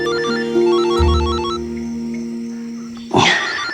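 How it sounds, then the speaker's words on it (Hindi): A melodic electronic ringtone plays in repeating beeping phrases, loud and close, ending with a brief rustling clatter. "किसका फोन है?"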